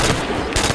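Double-barrel shotgun fired in Call of Duty Zombies, two sharp loud blasts about half a second apart, heard alone in a burst of game noise.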